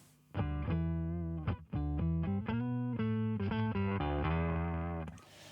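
Electric guitar through an Electro Harmonix Octave Multiplexer pedal, played as a run of sustained notes with a thick, gnarly, distortion-like octave tone, loud and alone with no talk.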